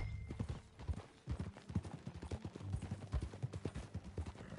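Rapid hoofbeats of a ridden horse in Red Dead Redemption 2, a steady galloping clip-clop close by with a faint background hum and no talk.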